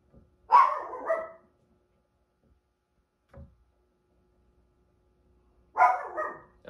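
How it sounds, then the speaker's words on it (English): A dog barks indoors during a reading session, giving two distinct sharp, close barks several seconds apart with a faint knock between them in otherwise quiet surroundings. "I didn't expect him to bark."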